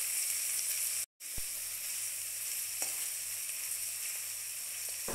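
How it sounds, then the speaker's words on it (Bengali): Chopped onions frying lightly in hot oil while a Bengali dry fish shidol chutney is cooked, giving a steady close sizzle with a brief dropout near the start and a few soft stirring ticks. "পেঁয়াজগুলোকে তেলের মধ্যে দিয়ে কিছুক্ষণ হালকাভাবে ভেজে নেব"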